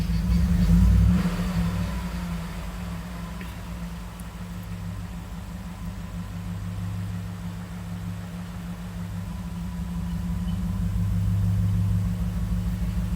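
A 2011 Ford F-150 truck engine idles steadily with a low, continuous rumble, a brief louder surge at the start and a slight swell near the end.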